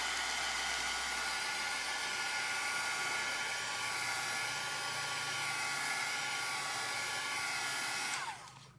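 Heat embossing tool blowing hot air to dry ink on a slim-line card, a steady, loud whooshing hiss that runs unbroken for about eight seconds before cutting off at the end.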